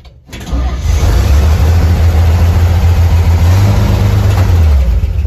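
A 1954 Chevy rat rod truck engine cranks and catches after a brief pause, then settles into a loud, steady, fairly high idle with a deep rumble, heard up close with no talking.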